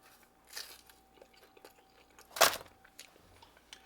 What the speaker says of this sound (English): Tell me you heard that crunch.